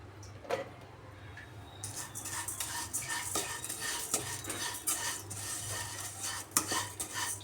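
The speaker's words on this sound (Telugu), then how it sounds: "ఆయిల్ వేడయ్యాక మనము తీసుకున్న సేమియాలను ఫ్రై చేసుకుందాము." Semiya vermicelli frying in a little hot oil in a pan, with a steady low crackle, scraping and clinks of a spoon stirring against the metal, and a constant low hum beneath.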